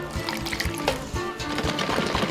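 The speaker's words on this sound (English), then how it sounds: "strain out that water, the hot water, and then pour in some cold water" Cold water poured over hot-rinsed felted wool, a steady liquid splash and trickle with uneven gushes running close and continuous for a couple of seconds, no voices.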